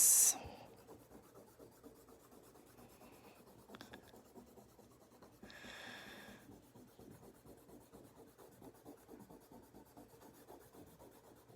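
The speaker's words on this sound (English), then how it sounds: "And we're ready to erase." A pencil drawing of Garfield is erased on paper, with soft rhythmic rubbing strokes close by, a sharp rustle at the start and a louder scrubbing burst midway, no voices.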